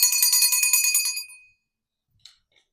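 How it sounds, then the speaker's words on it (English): A small hand bell rings brightly for about a second, jingling rapidly before fading out, followed by a faint clink. "We're going to use my mom's bell."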